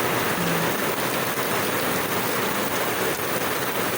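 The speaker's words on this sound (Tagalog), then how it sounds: "Maulan na naman." Rain falls on a wet Monday morning as a dense, constant hiss of drops hitting surfaces close by, with no pauses or voices.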